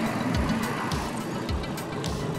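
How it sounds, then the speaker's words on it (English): A Royal Alloy 300 GP scooter with a 300cc engine and stock exhaust, heard while riding: a steady, close mid-pitched engine drone with a soft rhythmic pulsing and wind noise, and no talking. "The 300cc engine, it pulls all right."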